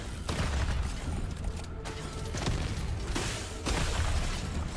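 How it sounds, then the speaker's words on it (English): Dense, continuous barrage of overlapping explosions and gunfire from the video game Deep Rock Galactic Survivors, with a grenade-heavy build, forming a loud, steady wall of booms and crackling bursts that swells in places. "You can see the amount of explosions that we have behind all this mess."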